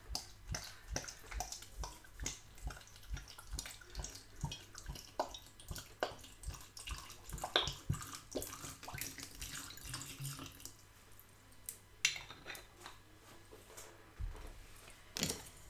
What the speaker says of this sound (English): to your pot, add your 400 ml of water